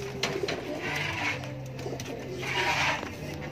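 A racing pigeon at its loft during a hard derby race in Bauang, La Union, giving low, steady cooing that repeats through the moment, with faint outdoor ambience and light rustling around it.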